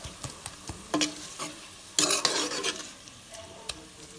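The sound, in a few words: stir-frying chutney paste for pork roast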